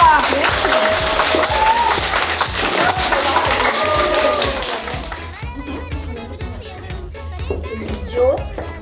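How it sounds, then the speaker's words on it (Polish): Children and adults at a preschool initiation ceremony clapping for a preschooler, a lively burst of applause that gives way to scattered claps amid children's voices and talking. "Brawa dla Gucia!"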